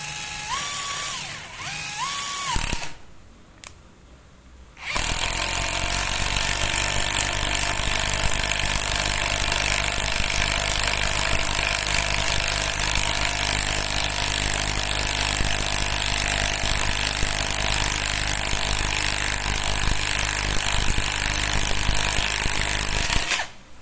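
A Ronix impact driver rated at 280 N·m, fitted with a 13 mm socket, drives 10 cm deck screws in one long, loud, steady hammering burst after a brief motor whir and a short pause.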